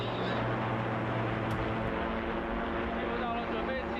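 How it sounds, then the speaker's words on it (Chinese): Three Double-tailed Scorpion UAV drones sit on a runway with their engines idling, giving a steady, unbroken broadband drone with a low hum underneath that holds evenly throughout. "3架双尾蝎无人机在跑道上，发动机处于怠速运行的状态"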